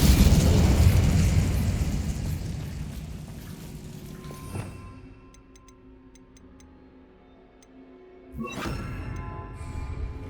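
A fire spell cast in the Hogwarts Legacy video game bursts out as a loud, broad whooshing blast that fades over several seconds, with small ticking game sounds after it and a second burst near the end.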